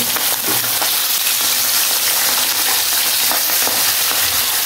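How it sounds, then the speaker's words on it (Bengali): Fish fries loudly in a pan with onion, garlic and tomato, a dense, steady close-up sizzle that stays constant throughout, no one speaking. "ফ্রাই চলছে এখন"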